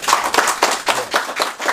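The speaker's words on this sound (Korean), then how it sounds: "박수 한번 주십시오." An audience at a Korean political lecture claps: a short run of about seven crisp, evenly spaced clap bursts, close and fairly loud, with no talking.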